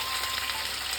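Vegetables for milk shukto sizzling in a pan, a soft, steady hiss of frying with faint crackles, heard alone and close.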